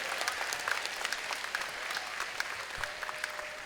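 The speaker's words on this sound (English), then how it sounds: "Let's give them one more round of applause." A crowd at a robotics competition opening ceremony breaks into sustained applause, dense clapping from many people filling the room at fairly even loudness, with no speech over it.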